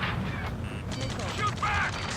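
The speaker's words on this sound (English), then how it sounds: "Return fire! Steer it to hold position! We're cut off! Taking fire!" Battle gunfire in Ace Combat 7: Skies Unknown, a clattering fusillade of shots and mechanical rattles at moderate distance, mixed with other in-game battle noise.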